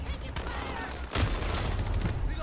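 Rapid gunfire from a Sandstorm RAM-7 assault rifle in the video game Modern Warfare, a dense burst that swells sharply midway and keeps rattling under a player's voice.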